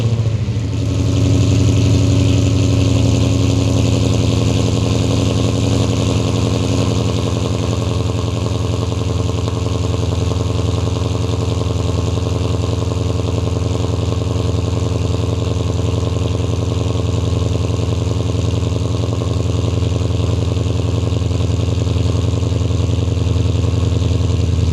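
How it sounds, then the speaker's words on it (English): A car running a BAMA 93 race tune sits at a steady idle after a cold start, a low continuous engine drone with a slight settling early on, close and unbroken, no voices. "Just then the car started to idle down a little bit"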